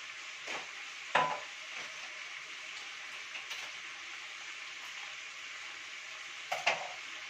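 Coconut milk poured into a simmering soup and stirred in a pot, a faint steady bubbling hiss broken by a few soft clinks and scrapes of the spoon, quiet and close.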